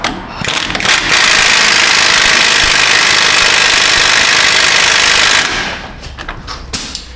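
A Lisle hub remover is driven, likely by an air impact tool, to push a wheel bearing loose, giving a loud, continuous hammering roar for about five seconds before it stops and clanks settle.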